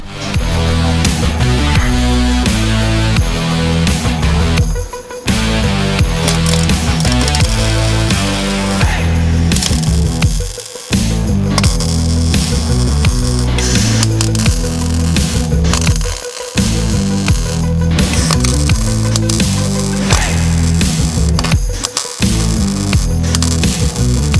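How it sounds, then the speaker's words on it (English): A welder lays beads on a brace for an aftermarket coolant reservoir in a Lexus, making a loud, steady crackling buzz in long runs of several seconds, each broken by a brief pause. "Welding time."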